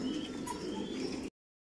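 Racer pigeons at a large breeding farm coo softly and steadily under a dense, continuous wash of flock noise, close by, then the sound cuts off abruptly.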